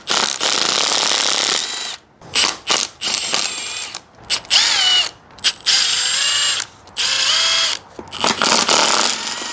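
A power ratchet or impact tool whirs and rattles in loud repeated bursts with short pauses while removing the intake manifold from a 1968 Camaro 327 small-block Chevy, close up.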